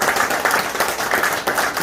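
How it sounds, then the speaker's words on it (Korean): Audience applause at the opening of a Democratic Party candidate's campaign office in Gumi, North Gyeongbuk: dense, steady clapping from a crowd filling the room for about two seconds. "박수 한번"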